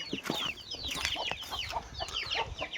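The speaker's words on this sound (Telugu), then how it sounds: "నాటు కోళ్ళు ఫామ్ కూడా ఉంది ఇక్కడ." Native country chickens on a farm cluck and chatter in quick, overlapping bursts, several birds fairly close together with no voices heard.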